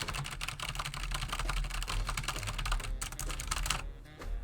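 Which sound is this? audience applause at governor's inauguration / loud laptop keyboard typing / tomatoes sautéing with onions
loud laptop keyboard typing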